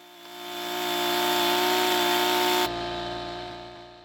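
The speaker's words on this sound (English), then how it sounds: "where I'm using the chainsaw" A chainsaw cuts into a wooden post for a pole barn, a loud sustained whining buzz close by that rises as the blade bites and then drops abruptly as the cut ends.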